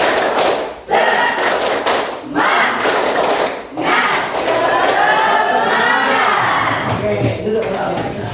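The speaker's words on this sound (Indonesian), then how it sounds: "Oke, tepuk semangat" A classroom group stands and performs a rhythmic spirit clap, loud clustered claps and thumps in repeated bursts with shouted group voices mixed in.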